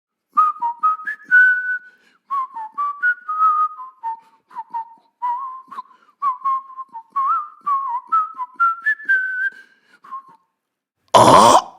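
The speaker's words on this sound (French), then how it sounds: "voilà le bûcheron qui arrive en sifflotant un air à la mode" A woodcutter whistles a popular tune, a lively melodic line of short phrases with brief pauses, clear and close, ending in a sudden loud burst.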